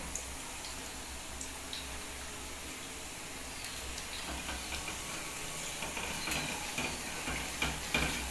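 Sweet potato puli pitha frying in hot oil gives a soft, steady sizzle throughout, with faint ticks and stirring clinks near the end, no one talking.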